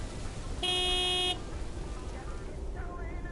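A truck horn in the video game Lake gives one loud, clear honk of under a second over a low road hum, while a voice talks around it.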